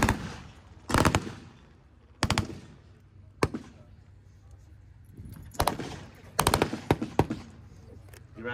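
Soldiers fire in short, loud staccato bursts at an outdoor World War II–style tank battle reenactment, with several separate volleys spaced across a calm, open background.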